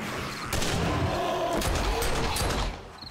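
Close, loud gunfire from a survival game with a zombie, a dense volley of shots and mechanical clatter filling nearly three seconds before dropping off.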